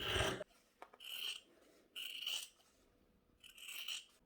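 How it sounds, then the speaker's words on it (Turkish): Scissors cutting fabric pieces for a toy doll: quiet, close, rasping snips come in about four short separate strokes with pauses between them. "Dikerken kolaylık olsun için parçaları kabaca aralarından kesiyorum"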